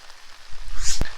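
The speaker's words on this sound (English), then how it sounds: "the rain is actually increasing" Heavy rain drums steadily around an umbrella outdoors, a dense close patter with one sharp drop striking near the end.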